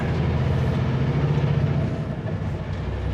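A vehicle comes around a road corner on a slippery day. Its steady engine rumble and road noise stay close and loud throughout, with no talking.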